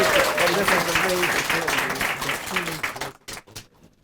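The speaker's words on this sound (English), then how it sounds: "Let's give her a round of applause" Audience applause at the National Congress of Black Women awards ceremony honoring a congresswoman, sustained dense clapping from a large crowd that tapers off into scattered claps, with voices talking beneath it.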